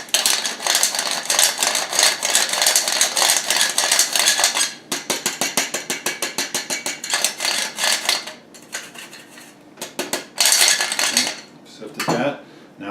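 A hand-cranked metal sifter sifting a cup of flour for an angel food cake, giving a loud, rapid, rattling scrape of metal that runs in several bursts with brief pauses and no voices.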